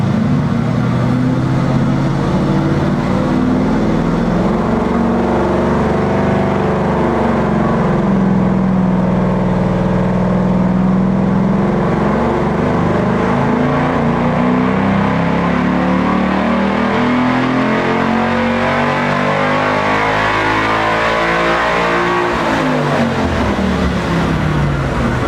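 A car engine roars continuously on a hub dyno during a pull, a loud sustained drone whose pitch climbs slowly, holds, then sweeps up again near the end, close and without a break.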